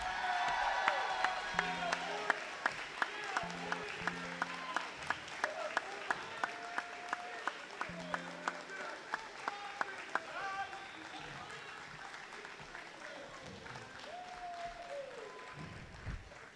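Graduation ceremony audience applauding and cheering: sustained crowd clapping with sharp individual claps and occasional whoops, moderately distant, while a voice speaks over the hall.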